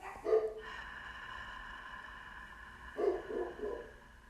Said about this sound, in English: even though the dogs are barking